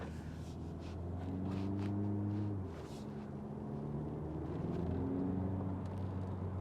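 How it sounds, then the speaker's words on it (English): Cabin of a 2020 BMW 2 Series Gran Coupe or 2020 Mercedes CLA driving in sport mode with the fan off: a steady low engine drone and road rumble, with pitch rising and falling as the car accelerates and shifts. "let me turn off the fan completely, and then so we can do our noise test"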